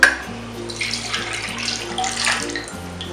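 Milk poured into skinny blueberry muffin batter makes a brief splashing, gurgling pour over a low steady hum, lasting about three seconds with no talk.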